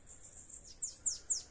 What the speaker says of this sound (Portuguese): Esse passarinho combatendo com o outro.